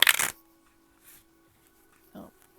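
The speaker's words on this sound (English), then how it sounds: "the cards fell out as I was shuffling" A brief, sharp riffle of oracle cards being shuffled at close range opens the moment, followed by near silence with a faint low hum and a couple of soft handling rustles.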